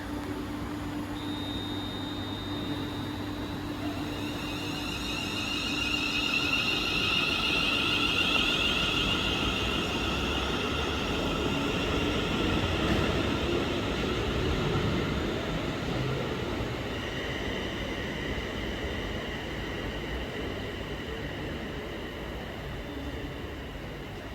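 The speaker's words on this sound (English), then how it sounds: "Train now departing is a 350 going to Stafford." A Class 350 electric multiple unit pulls out of Stoke-on-Trent station bound for Stafford, a steady broadband rumble with whining motor tones that swells toward the middle, then eases as the train draws away.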